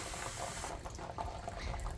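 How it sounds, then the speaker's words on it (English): Cold water sprays from a hose onto the ground outdoors in roughly 100-degree heat, making a steady, close hiss that runs throughout with no pauses. "I am spraying the ground around me with cold water"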